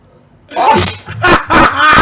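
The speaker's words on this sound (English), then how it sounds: "Oh, it's sneezing." Someone sneezes several times in a row, loud and close, each burst sharp and breathy with short pauses between, part of a run of three or more sneezes.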